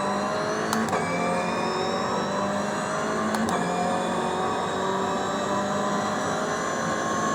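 A racing car on a video-game lap of Sandown holds a loud, steady engine drone with rising and falling tonal whine and two brief sharp shifts or bumps, and no voices.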